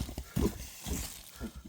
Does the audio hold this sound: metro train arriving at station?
no